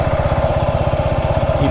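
Motorcycle rolling slowly downhill on a rural property with a tripod fixed to the handlebars, its engine putting out a steady, rapid low thumping pulse with a mid-range hum, loud and close.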